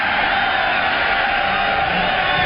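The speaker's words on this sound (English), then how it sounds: "Listen to the crowd." Football stadium crowd at an XFL game between the Las Vegas Outlaws and Chicago Enforcers, roaring in a steady, dense wash of cheering that holds loud and even throughout, with no clear separate voices.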